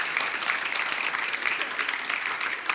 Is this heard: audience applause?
yes